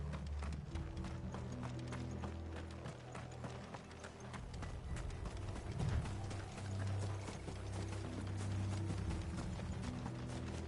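Horses' hooves clip-clop in a steady, brisk rhythm in the Final Fantasy 16 video game, mixed with creaking, ratcheting cart or tack sounds and a faint whinny, continuous and fairly quiet.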